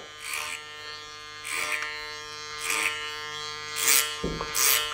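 Electric hair clippers cut and blend a textured taper at the crown over a clipper comb, buzzing in four or five short bursts that swell and fade with each upward lift, close and steady, with no talking.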